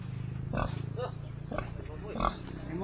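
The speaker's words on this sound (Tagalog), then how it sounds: "ito ang batang biik ni Don" A young piglet at a hacienda grunts in short bursts, close and fairly loud, under steady background noise and nearby voices.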